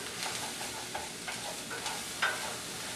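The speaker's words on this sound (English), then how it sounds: "I'm gonna come back here and stir my onion up a little bit." A pan of onion and garlic fries with a steady sizzle while a utensil stirs through it, giving repeated scraping strokes over the constant frying hiss, close up, with no talking.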